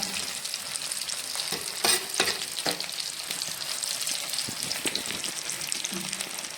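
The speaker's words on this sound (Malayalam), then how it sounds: "അപ്പോൾ മീൻ നമുക്ക് പൊരിക്കാം വെട്ടി ചൂടായിട്ടുണ്ട് എണ്ണ വെച്ച് കൊടുത്തിട്ടുണ്ട്" Fish deep-frying in a generous amount of hot oil, a steady loud crackling sizzle throughout with a few sharper bursts of spatter and utensil clatter near the start.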